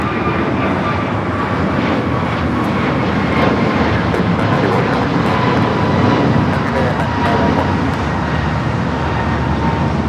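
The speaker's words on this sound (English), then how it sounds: "This is American Airlines 591 taking off to Washington Reagan National on the A321neo" American Airlines Airbus A321neo jet taking off at LAX, a loud, steady, close engine roar sustained throughout with no speech.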